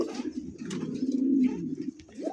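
Pigeons at a pigeon farm with local and foreign fancy breeds coo nearby in a low, throaty, rolling murmur that swells and fades for a couple of seconds.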